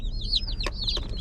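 Baby chicks in a box chirping, a quick run of high, sweet peeps that repeat close by over a soft low background.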